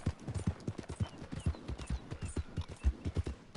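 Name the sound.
horse hooves galloping in video game Red Dead Redemption 2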